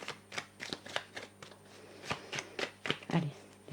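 Oracle cards being shuffled by hand, a rapid run of crisp riffling flutters and soft slaps repeating several times a second, close and fairly quiet, with no voices.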